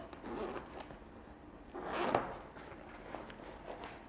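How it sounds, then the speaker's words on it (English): Zippers being pulled open on the outside molded compartment of a Patagonia Stealth Atom Sling, a soft rasping run that swells near the middle, quiet and close with no talking. "2 zippers that go either way that open her up."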